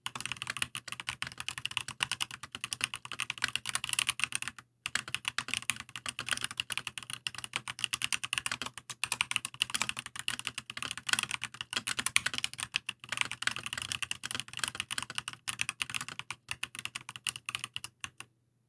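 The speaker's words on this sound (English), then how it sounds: "I went with the Gathering Pro Red switches and here is how it sounds." Typing on a Keychron mechanical keyboard fitted with Gateron Pro Red switches, a steady, rapid stream of soft, close keystroke clacks with brief pauses, no voices.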